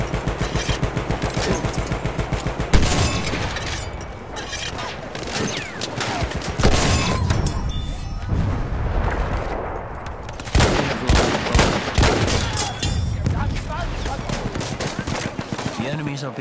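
In the Battlefield 1 video game, an artillery barrage and gunfire rage in dense, overlapping bursts, with heavy booming impacts and rapid shots continuing nearly throughout, loud and close.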